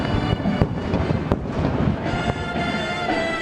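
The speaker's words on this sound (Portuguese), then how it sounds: "Uma salva de 21 tiros de canhão abriu a solenidade." Cannon booms of a 21-gun salute open an army ceremony, a few sharp reports standing out over loud, dense crowd and outdoor noise.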